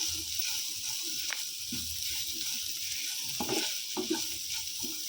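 Curry leaves fry in a pan with a soft, steady sizzling hiss, punctuated by a few light clicks and scrapes of stirring, heard close and quiet with no speech.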